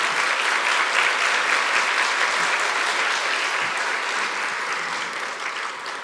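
An audience applauds loudly to welcome a speaker onto a stage at a lecture event. The clapping is dense and sustained, with no break and no voices, and it fades slightly toward the end.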